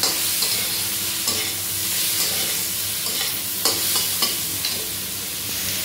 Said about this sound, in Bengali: দিয়ে এটাকে ভালো করে নেড়ে চেড়ে কষিয়ে নেবে